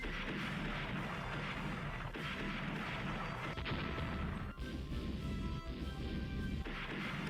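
Naval battle in the warship strategy game Rule The Waves, with a steady roar of artillery fire and crashing hits from torpedoes tearing a ship apart, a dense, unbroken barrage at a fairly low level.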